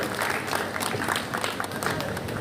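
An audience at a Hindi poetry gathering breaks into dense, continuous applause, with many hands clapping loudly and evenly across the whole moment, the room full of crowd noise.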